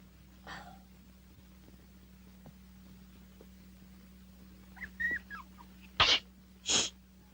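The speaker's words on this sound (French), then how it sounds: "il m'a semblé entendre un éternuement" Two sharp, brief sneezes come close together near the end, following a few faint snuffling sounds over a low, steady background hum.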